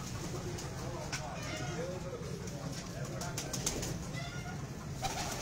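Pigeons kept on a rooftop loft give soft coos and wing flutters, faint beneath a steady wash of broadband outdoor noise and nearby voices.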